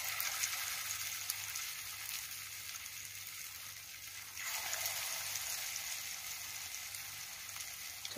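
Potato pakoras frying in hot oil give a steady, fairly quiet sizzle and crackle that holds evenly throughout, growing slightly louder partway through, with a low hum underneath.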